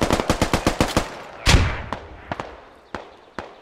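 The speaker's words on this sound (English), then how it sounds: "Raggy returning fire." Rapid bursts of gunfire in the SquadOps tactical shooter game: a fast string of about eight close shots, a heavy blast, then scattered single shots fading out, with no talking.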